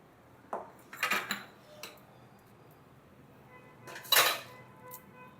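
Ravva kesari made with jaggery being scooped from a pan into a serving dish: a few scattered metallic scrapes and clinks of a spoon against cookware, with a louder clatter near the end, between quiet gaps.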